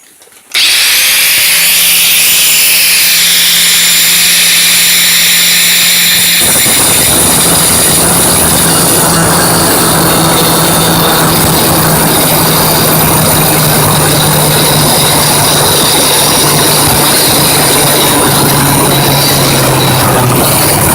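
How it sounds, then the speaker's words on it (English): An angle grinder fitted with a small metal cutting wheel slices through metal for a table saw fence, a loud, harsh, continuous screaming whine that runs steadily for about twenty seconds, close by and without talk. "just put this little metal cutting wheel on the angle grinder and cut that out."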